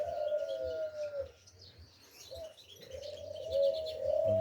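Pigeons coo softly, a few low rolling calls with a short gap between them, against quiet background chirps.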